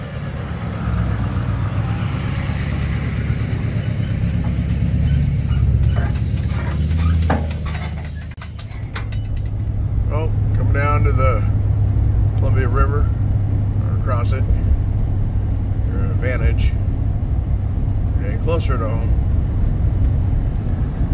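A truck towing a 1999 Chevrolet Tahoe runs with a steady low engine rumble that dips briefly, then picks up as it pulls away, while voices talk over it.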